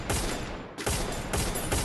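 Sustained automatic gunfire in a shooting video game, loud and continuous, broken by a brief dip before the firing resumes in heavy bursts.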